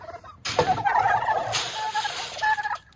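Several turkeys gobbling loudly nearby, overlapping rapid warbling calls that continue almost without pause, with a few sharper bursts.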